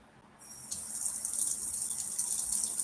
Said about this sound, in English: Audio warning for running water